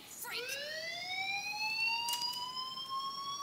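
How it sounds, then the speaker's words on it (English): A fire alarm in the video game Life is Strange sounds as a single steady electronic wail that sweeps up quickly and then holds, fairly faint, with no talking. "Fire alarms."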